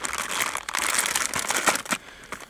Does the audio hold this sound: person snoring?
no